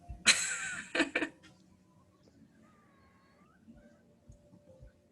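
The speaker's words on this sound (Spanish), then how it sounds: "Mareni, tu gato está muy bonito" A cat gives two loud, close meows in quick succession, then a fainter drawn-out call follows against a quiet room.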